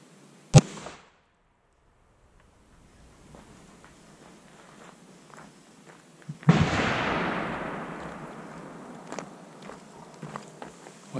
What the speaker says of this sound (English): First few shots will be lower velocity, simulating longer range.